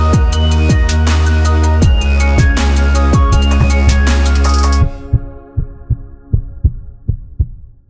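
A heartbeat sound effect opens a workplace-safety podcast intro, its steady thumps first layered under loud music, then continuing alone as evenly spaced, close, heavy beats.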